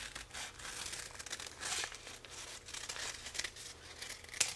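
Scissors cut a paper flower petal shape for a paper rose, giving close, crisp crinkling snips and rustles of paper that continue steadily, with a sharper click near the end.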